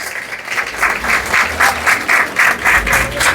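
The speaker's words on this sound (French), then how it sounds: "Sous vos applaudissements, mesdames et messieurs, la championne de la 8e édition de House of Challenge, Ariana Milagro Lafont." An audience at a House of Challenge ceremony claps loudly in rhythmic, pulsing bursts to welcome the eighth-edition champion, with no voices over it.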